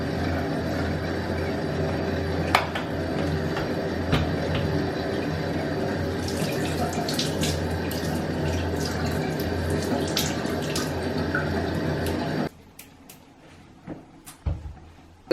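Tap water runs steadily into a bathroom sink while someone washes their face, a constant close splashing and trickling that continues for about twelve seconds before stopping abruptly, followed by a few faint drips and handling sounds.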